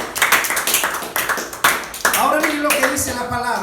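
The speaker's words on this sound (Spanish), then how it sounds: "Vamos a aplaudirlo." A congregation claps during a Spanish-language church service, with a run of dense, overlapping hand claps at a steady level and voices and music mixed in underneath.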